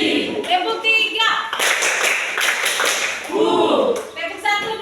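Pupils in a class clap in unison during a rhythmic clapping game, a sustained burst of many hands in the middle with young voices talking before and after.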